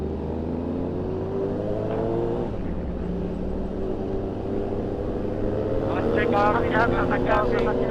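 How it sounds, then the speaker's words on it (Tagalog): A car drives past during a motorcycle group ride from Vitali to Ipil, its engine drone rising and falling over the rider's own engine and wind noise, with voices talking throughout. "Meron pa kotse."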